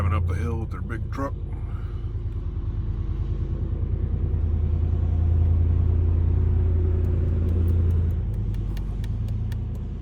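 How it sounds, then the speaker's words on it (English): A big truck grinds steadily uphill with a deep, sustained engine rumble that swells and then eases, while people talk over it. "Driving up the hill with their big truck."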